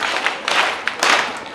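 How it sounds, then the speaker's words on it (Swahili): A church congregation claps at a parish celebration before a bishop, with short, close bursts of hand-clapping that rise and fall in quick rounds. "tuwape makofi matatu"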